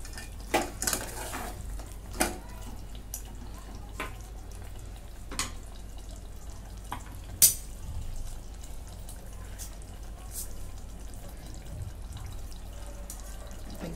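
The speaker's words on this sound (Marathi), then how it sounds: "आता ह्याच्यात थोडंसं पुदिना, थोडीशी कोथिंबीर आणि हा तळून घेतलेला कांदा सगळं मिक्स करून घेते." A spoon stirs mint, coriander and fried onion into half-cooked chicken biryani in a pot. Faint scrapes and soft clinks of metal sound at scattered intervals over a quiet background.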